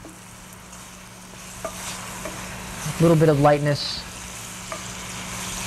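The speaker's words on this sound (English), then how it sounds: "add my fruit here. Of course, that will begin to bubble." Pear pieces bubble and sizzle gently in a pan with butter, a soft steady fizz close by, while someone speaks briefly over it midway.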